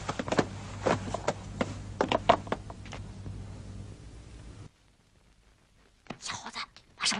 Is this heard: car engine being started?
no